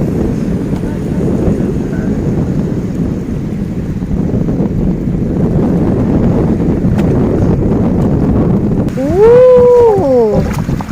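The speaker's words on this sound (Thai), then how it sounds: "เริ่มจะมีลม" Wind blowing over rough sea aboard a small fishing boat, a loud continuous rushing roar with buffeting on the microphone, and a brief wavering high tone rising and bending near the end.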